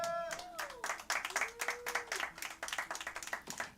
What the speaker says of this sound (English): Another round of applause for Nick Winatory opening the night.